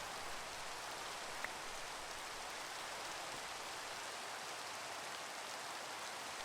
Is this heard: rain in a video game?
yes